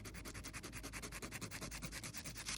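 A nail file shapes a fingernail during a semi-permanent polish application with reinforcement, in quick, even back-and-forth strokes that rasp softly and close up, with no voices.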